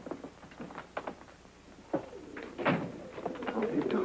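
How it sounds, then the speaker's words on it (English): Carrier pigeons cooing in soft, rolling bursts in a 1948 Western, mixed with a few knocks and rustles, growing busier toward the end as the flock stirs. "Sounds like pigeons."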